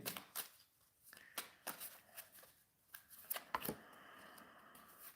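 Tarot cards shuffled and drawn from a deck, a run of crisp riffling flicks and slaps in uneven bursts, close and fairly quiet, with no voices.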